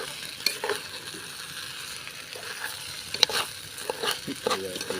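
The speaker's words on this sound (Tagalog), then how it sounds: "Halu-haluin mo lang." Arroz caldo rice and rice grains stirred in a pot, with scraping and light sizzling at a steady pace, close and fairly quiet, with a few sharper clinks near the end and no talking.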